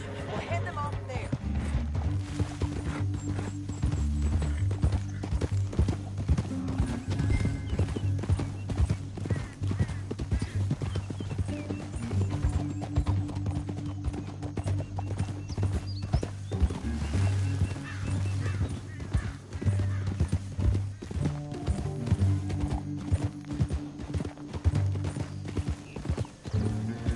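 Horses gallop in the Red Dead Redemption video game, a loud continuous clip-clop of hooves with occasional whinnies over a music score, while voices talk over it.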